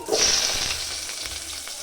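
Potatoes fry in a hot pan with a bright sizzle that flares at first, then settles into a steady hiss with faint crackles, close and alone.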